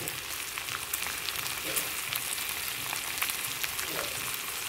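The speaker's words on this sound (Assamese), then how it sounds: "ইয়া মাংসটো ফাইনালি ফ্ৰাই হৈ গল" Pork pieces fry in a pan with a steady, dense sizzle and crackle throughout, close and fairly loud, with occasional stirring scrapes and no talking.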